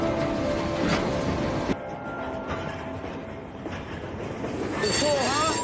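A freight train rolling along rails, with a heavy rumbling rattle of cars and wheels, a sharp clank partway through, and high squealing wheel tones near the end, loud and close.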